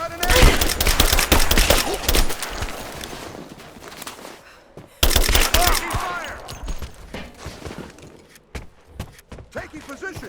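Rapid suppressing gunfire in the video game Rise of the Tomb Raider: dense bursts of loud automatic shots crackle almost continuously, break off briefly near the middle, then surge again before thinning into scattered shots.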